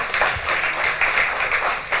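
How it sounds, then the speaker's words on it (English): An audience at a World Cancer Day commemoration event in Nigeria claps steadily, a dense continuous applause heard fairly loud and close for the whole stretch. "Round of applause for her again"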